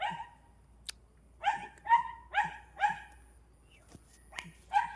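A dog barks repeatedly at moderate distance, about seven sharp barks in an uneven rhythm with short pauses, against a quiet background with a faint low hum.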